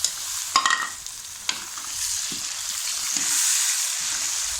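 Chopped tomatoes dropped onto fried onions in a hot pan, a few sharp scraping stirs up front, then a steady loud sizzle of frying, close and without talk.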